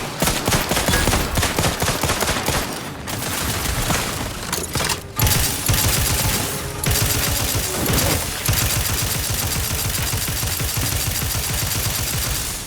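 Sustained rapid gunfire from a firefight in the video game The Outer Worlds 2, with dense overlapping bursts and sharp shots, loud and close, with brief pauses, and no talking.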